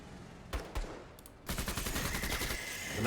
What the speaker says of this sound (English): We'll just cut that apart with the LMG, I think.